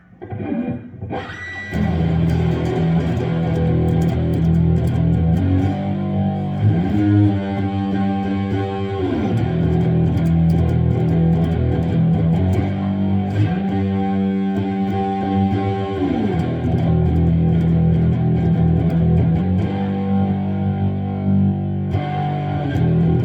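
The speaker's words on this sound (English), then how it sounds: "this is where the P90 really shines, is with some distortion on it" Heavily distorted electric guitar with a P90 pickup playing sustained power chords with a thick, gritty tone, changing chords every few seconds, loud and alone.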